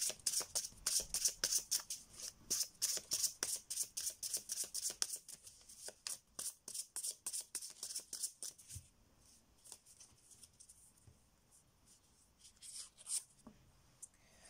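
Tarot cards being shuffled by hand, a close, crisp run of rhythmic riffling flicks that slows and thins out into softer handling sounds and scattered taps, with no voice over it.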